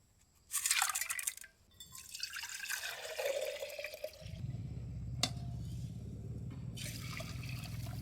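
Almond thandai is squeezed slowly through a handkerchief, giving soft splashy drips and trickles of liquid in short bursts, then a steadier low pouring trickle near the end; quiet and close, no speech.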